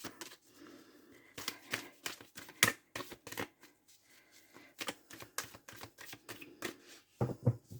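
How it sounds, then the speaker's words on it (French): Oracle cards are shuffled for a nine-card reading, the deck riffling and slapping in irregular bursts of crisp papery clicks, close and fairly quiet, without talk. "on va aller prendre l'oracle des miroirs et faire un tirage en 9 cartes"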